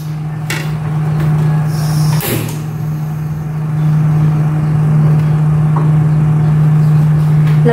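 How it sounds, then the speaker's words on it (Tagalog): A kitchen exhaust fan runs with a loud, steady, close-up hum, broken only by a brief clack early on. "Switch ko muna tong exhaust fan."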